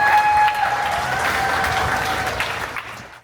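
Festival crowd applause for the festival chairperson, a steady wash of clapping that fades out over a few seconds, with a faint sustained tone underneath.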